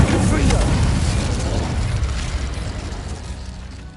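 A Confringo blasting spell explodes in a wizard video game, a loud, broad boom that hits at once and then rumbles and decays slowly over several seconds.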